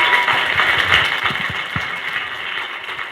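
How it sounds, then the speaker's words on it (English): Applause from the audience at a leadership panel, a warm sustained round of clapping that stays fairly loud and slowly eases off, with no speech on top. "Can we get some applause?"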